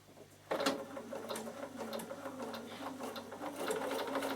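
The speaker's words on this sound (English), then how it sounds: "I'm going to stitch it first" A Bernina sewing machine runs a stitching line that starts abruptly after half a second, then a fast, steady mechanical whirr and rapid needle clatter up close, with no talking.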